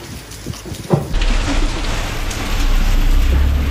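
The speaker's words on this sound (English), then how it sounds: "at least until the rain stops." Steady rain patters and hisses on the surface around a motorcycle during a border crossing between Russia and Mongolia, a close broadband wash that swells toward the end, with a brief knock near the start and no talk.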